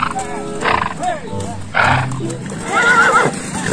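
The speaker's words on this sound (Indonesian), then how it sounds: "Wow, si pengendara delman, kuda teman-teman." Cartoon horse neighing and whinnying in a children's animation, several bright whinnies in a row over a background with a voice talking.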